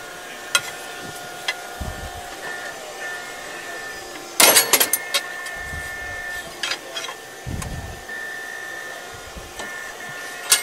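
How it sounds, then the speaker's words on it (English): Sheet metal notcher machine in a fabrication shop: a sharp burst of clattering mechanical strikes, then scattered clunks and thumps over a steady electrical hum with tonal whines. "Here's our notcher."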